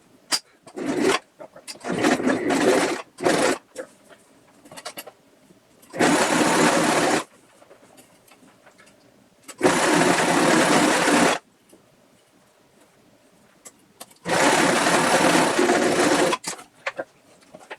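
A sewing machine stitches a half-inch rolled hem on a backpacking gear prototype in several loud, close bursts of rapid whirring, some short and choppy and others sustained for about a second or two, separated by quiet pauses.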